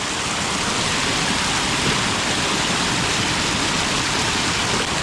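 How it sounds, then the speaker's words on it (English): A waterfall at Pahamsyiem in Meghalaya, India roars as a dense, steady, broadband rush of falling water, loud and close without pause. "Waterfall it is."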